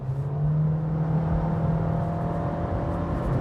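Steady hybrid Toyota Yaris Cross engine hum from inside the cabin, a low droning tone holding under road noise and a passing truck, without a clear rise in pitch.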